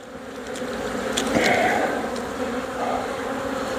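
Honeybees drone steadily inside an open horizontal hive during winter inspection, a continuous close, moderately loud buzz that swells slightly midway and stays even throughout with no talking.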